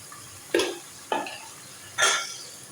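Meat with a tablespoon of garlic-ginger paste is stirred in a pot, giving three distinct scraping, sizzling strokes of spoon against metal at close range with a faint frying hiss between them.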